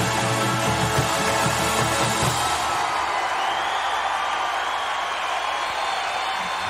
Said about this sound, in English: the crowd is already going. They're already going crazy